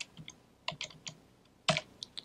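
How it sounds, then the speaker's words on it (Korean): A handful of quick, light keystrokes tap on a computer keyboard close by, ending in a slightly heavier press of the Enter key in a quiet room. "키보드 엔터키를 누릅니다."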